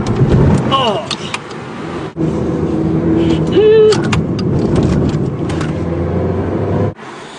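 A Ferrari sports car drives on the road with a loud, steady engine and road rumble, broken by brief dropouts, and voices exclaiming inside the cabin.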